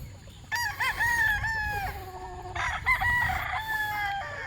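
A rooster crows twice at a poultry breeder's yard, the calls loud and clear over faint farmyard background noise.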